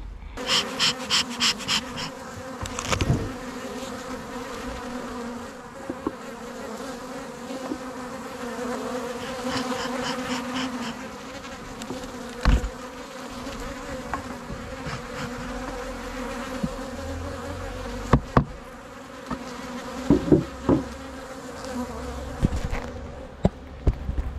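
Bees buzz around an opened hive on a fine spring day, a close, steady drone with individual insects passing near the microphone and occasional handling knocks and thumps.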